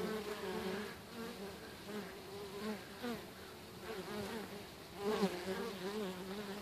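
Honeybees carrying heavy loads of orange pollen come and go at a hive, several close wingbeat buzzes rising and fading as individual bees fly past, continuous and fairly soft with no talking.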